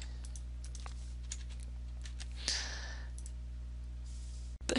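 Card number tapped on a keyboard into a point-of-sale system, a faint scatter of light key clicks over a steady low hum, with one brief louder rustle midway and no talk.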